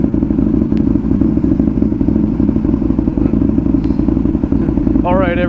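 An Aprilia RSV1000R motorcycle engine, a steady, loud low rumble throughout with a rider's voice talking over it during riding.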